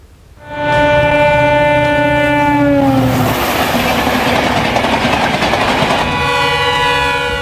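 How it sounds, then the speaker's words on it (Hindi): An express train speeds past a railway halt at about 100 km/h. It opens with a loud sustained horn blast, then a roaring rush of wheels and carriages that stays close and heavy to the end. "100 किलोमीटर प्रति घंटे की रफ्तार से दौड़ रही एक्सप्रेस ट्रेन और करीब पहुंचती जा रही है"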